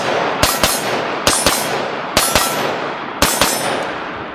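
Four quick pairs of sharp reports from an AK Scout rifle, each followed by a ringing metallic clang as rounds strike steel targets about 50 yards out, evenly spaced and loud with no talking.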